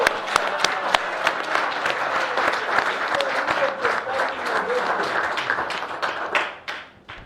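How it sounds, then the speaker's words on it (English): Sustained applause from an audience at a political alliance press briefing, dense steady clapping that carries on for several seconds before thinning out and fading at the end. "I'll ask all of us to clap for Tonse for winning Petauke again"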